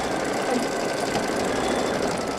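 A sewing machine running a satin stitch, a loud, close, continuous mechanical whir and rapid needle chatter with no pauses across the short stretch.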